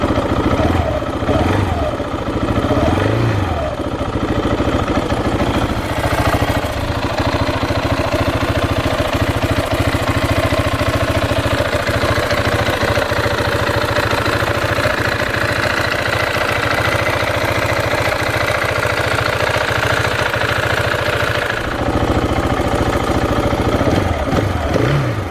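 A 2013 KTM 690 motorcycle engine idling as it warms up, a steady loud single-cylinder throb held close and constant throughout, with no talk.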